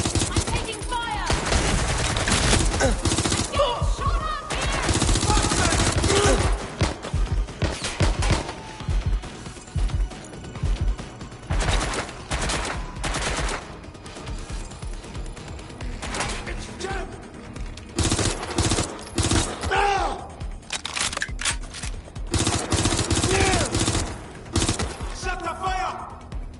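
Gunfire from Watch Dogs Legion pours toward the player in dense, rapid bursts with machine-gun volleys and scattered crashes across the whole stretch, loud and close, broken only by brief gaps.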